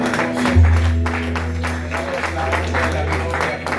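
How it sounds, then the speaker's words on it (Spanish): Church congregation applauding during a Spanish-language service, a continuous wash of clapping from a crowd, steady and fairly loud, with a low sustained organ or keyboard tone underneath. "¿Cuántos pueden darle ese aplauso fuerte a todo el mundo?"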